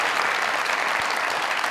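Loud, dense audience applause at a live comedy show taping, close and continuous through the whole short stretch with no break.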